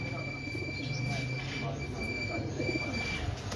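Breeder pigeons on a Lahore rooftop coo in low, soft, throaty phrases under a steady background hum, with a faint high whine running through.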